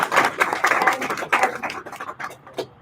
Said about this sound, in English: please help us applaud our startups for all of their hard work over the past 3 months.